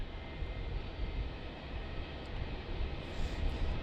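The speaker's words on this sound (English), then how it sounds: "the Qantas 330's off. It's 446, runway 27, cleared for takeoff" A Qantas Airbus A330 airliner takes off from runway 27 at Melbourne Airport, a steady broad jet roar that holds for several seconds at a distance, continuous and unbroken with no voices over it.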